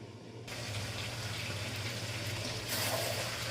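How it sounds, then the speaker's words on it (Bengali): Hot water runs into a bowl from a tap in a kitchen, a steady close gushing stream that starts abruptly and grows slightly louder toward the end, with no talking. "এই বাটিতেই আমি এবার একটু গরম জল করে নেবো"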